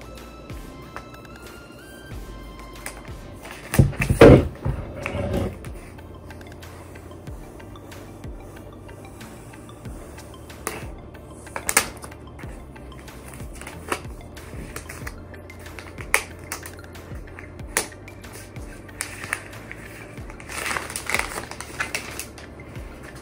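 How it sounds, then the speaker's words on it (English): A new iPad Pro 11-inch (2020) is unwrapped from its packaging, giving scattered crinkles, snaps and peeling sounds with a louder burst of tearing early on, then intermittent soft rustles close by. "we're going to now open the, unwrap the iPad."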